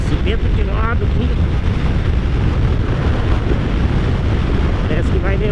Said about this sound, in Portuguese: Vento de lado aqui.